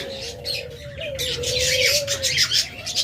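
Pet birds in a bird shop, including a pair of cockatiels, chirp and whistle in a steady, busy chorus with a sustained tonal call running throughout.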